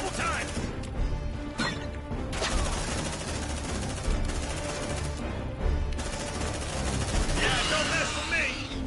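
Shotgun blasts and heavy gunfire in the Aliens: Dark Descent video game, several sharp bursts cracking out amid dense continuous game noise and chaotic combat.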